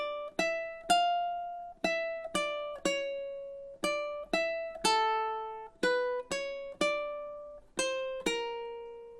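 Solo ukulele fingerstyle Bour√©e by Bach, a short pickup bar leading into the first measures: clean, close plucked notes in a steady, unhurried rhythm, each ringing and decaying before the next, with no talking.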